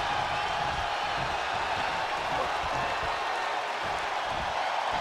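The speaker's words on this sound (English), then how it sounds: "What a raucous crowd here tonight." An arena crowd cheering at a Ric Flair vs Ultimate Warrior wrestling match in the game WWE 2K23, a steady, dense roar of noise with applause, continuous and loud throughout.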